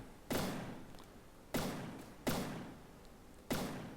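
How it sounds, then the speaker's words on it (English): Ship guns in a video game fire all their barrels at once in four separate heavy volleys. Each is a sharp, booming thud that decays over about a second, with steady low noise in the gaps. "look at those guns firing a shotgun effect, firing all the barrels at once"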